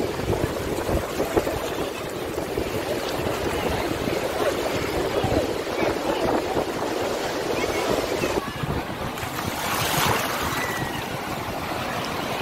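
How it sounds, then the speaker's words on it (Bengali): Strong sea waves break and surge at Puri beach where people are bathing, a continuous loud wash of surf mixed with gusty wind noise throughout. "এই এবারে জোরে জোরে আসছে।"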